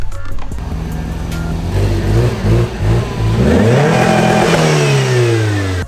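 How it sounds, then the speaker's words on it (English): A Toyota MR2 with an oil leak two-steps in a driveway, its engine revving hard against the launch limiter in loud, choppy bursts that rise and fall up close. "Two-stepping in my driveway."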